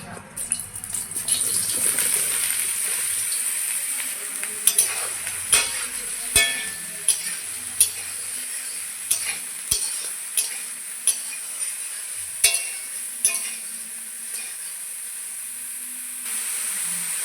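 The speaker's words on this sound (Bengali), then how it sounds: "এই তেলে আমি সয়াবিনগুলো ভেজে নেব" Soybean chunks fry in oil left over from frying potatoes, a soft steady sizzle with a regular series of sharp utensil taps and clinks against the pan.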